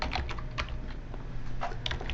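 Fast, irregular clicks from a computer keyboard as an email address is typed, heard close and clear with no talking.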